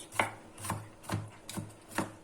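Onions are chopped with a knife on a board in a home kitchen, five evenly spaced crisp knocks, close and fairly quiet, with no voices.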